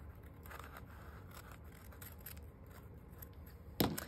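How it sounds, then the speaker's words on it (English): Debbie snips cut through junk mail paper in a crafting session, one crisp, close snip near the end after several seconds of quiet rustling and background hiss. "Using my Debbie snips"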